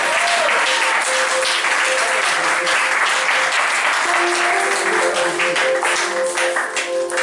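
A church congregation applauds to acclaim Jesus Christ, with steady, dense clapping throughout and a near, loud wash of hands. Sustained tones and voices run underneath.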